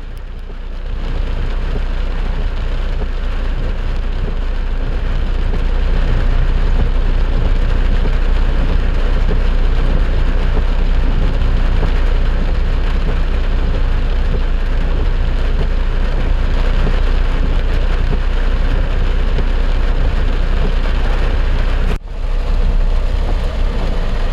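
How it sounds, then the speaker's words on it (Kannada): Heavy rain pours in Bengaluru as vehicles move along a flooded road, a loud unbroken roar of rain and traffic with a brief dip near the end and no speech. "ಕಳೆದ 2 ಗಂಟೆಗಳು ಕೂಡ ಧಾರಾಕಾರವಾಗಿ ಮಳೆಯಾಗ್ತಾ ಇದೆ"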